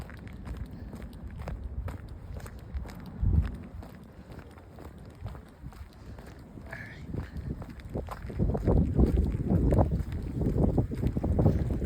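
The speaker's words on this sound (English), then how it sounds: "It's very windy, but we'll do this anyways" Steady wind buffets and rumbles against the microphone, growing stronger toward the end, with faint scuffing movement underneath.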